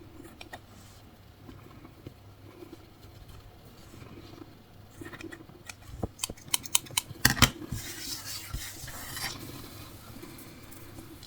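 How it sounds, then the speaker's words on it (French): Scissors snip through wool yarn at a crochet craft table, a quick run of sharp cuts in the middle after quieter rustling, close and clear with no talk. "Après la laine, quand vous la coupez là comme je viens de faire"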